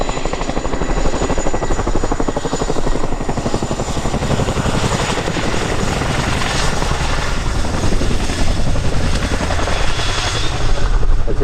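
A loud Chinook helicopter drones continuously nearby at an air show, its rotor thumping in a fast steady rhythm with a roaring engine whine throughout.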